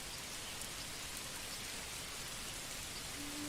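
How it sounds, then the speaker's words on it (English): Rain falls steadily in the medieval city-builder Manor Lords, a soft, even hiss of drops on surfaces that continues unbroken and fairly quiet throughout, with no voices. "Look at this rain."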